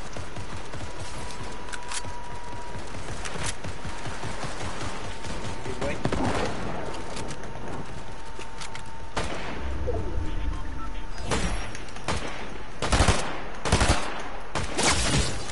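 Gunfire from a sniper and other weapons rings out in the Fortnite video game: scattered loud cracks and bursts over a steady background bed, some more distant, with brief voices in the mix.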